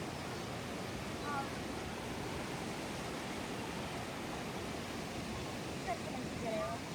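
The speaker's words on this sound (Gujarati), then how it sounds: "ખતરનાક પાણી આવી ગયું અચાનક જ" Sudden first monsoon floodwater rushes down the Uchh river, a steady, broad roar of churning water that fills the scene close by and never lets up.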